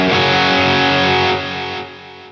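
Distorted electric guitar played through a Boss Katana guitar amp with every effect switched on rings out loud and sustained, a thick chord decaying gradually in its final second, with no voices.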